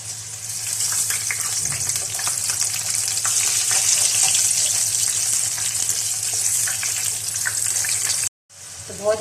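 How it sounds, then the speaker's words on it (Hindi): Stuffed ring rolls filled with keema deep-frying in hot oil, giving a loud, dense, steady bubbling sizzle that runs unbroken for about eight seconds before cutting off sharply, then briefly resuming. "तो इस तरीके से तमाम रोल्स फ्राई कर लूँगी।"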